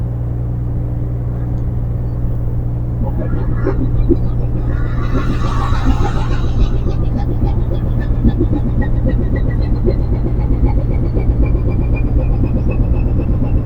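A ship's engine turns at slow ahead while the vessel docks, giving a steady, loud low drone with sustained humming harmonics. A thin rising whine and faint voices sit above it throughout.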